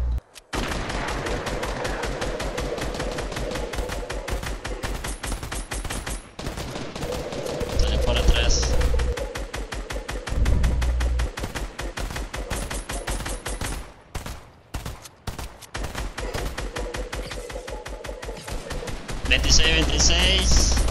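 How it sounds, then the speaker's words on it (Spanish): Fortnite gunfire: rapid, dense bursts of shots that run almost nonstop and hit hard at close range, with a few short gaps and heavier, louder volleys near the middle and end. "Pero me dispararon, no vi de dónde, pero me soltaron."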